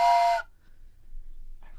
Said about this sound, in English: That's a train whistle.